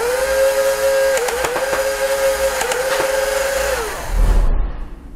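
A ZHENDUO electric UZI toy blaster firing at a target: a loud, steady motorised whine with rattling clicks running for about four seconds, then a brief low thump as it stops.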